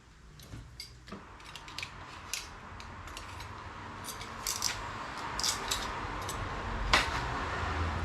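Scissors snip through tubeless rim tape being trimmed to fit a bicycle rim, a series of short close cuts and clicks over a steady background hiss, with a sharper snip near the end.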